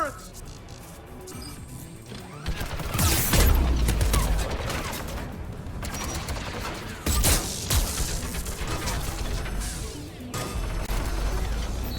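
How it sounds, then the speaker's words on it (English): Rapid turret gunfire and explosive blasts in Mass Effect Legendary Edition during a combat mission on a home world, loud bursts with crashes and mechanical clatter, while voices talk throughout. "Turrets!"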